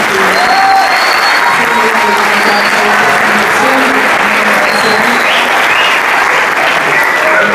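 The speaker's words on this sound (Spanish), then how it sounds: "con un fuerte aplauso, la vamos a recibir a la licenciada Rosy Sanabria" An audience at a theater school and expressive therapy launch gives a loud, sustained round of applause to welcome the host, steady dense clapping with a few voices and cheers mixed in.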